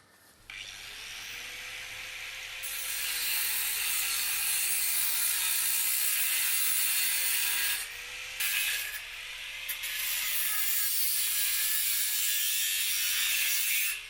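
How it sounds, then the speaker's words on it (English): A cut saw grinding through the metal of an IBC tote, a loud steady abrasive whine lasting over ten seconds, with a brief dip and pause near the middle before resuming. "we're going to cut this off neatly with our cut saw"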